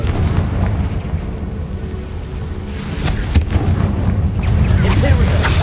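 Booming spell blasts from a Confringo attack in Hogwarts Legacy rumble through a loud, dense game soundscape, with sharp explosive hits and low rolling thunder layered together.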